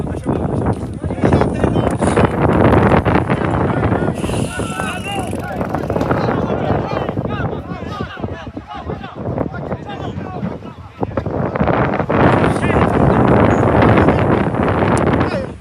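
Wind buffets the microphone at an outdoor football pitch during an Eccellenza Sicilia amateur match, a loud, steady rumbling roar through most of the clip under a commentator's talk.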